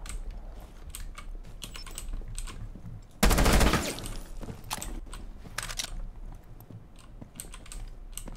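Gunfire in Rainbow Six Siege: a short, loud automatic burst lasting about half a second, set against constant rapid keyboard clatter and scattered clicks, with no talking.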